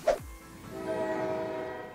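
A train passes near railroad tracks on CCTV footage where a motorcycle stalled by the crossing: a sharp thump opens, followed by a sustained droning rumble with horn-like tones.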